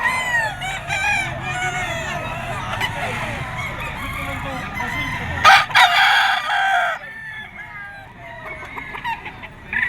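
Roosters crow repeatedly at a crowded poultry market in Bocaue, Bulacan, where banded game birds are sold, with overlapping loud calls and clucks nearby and a burst of flapping midway.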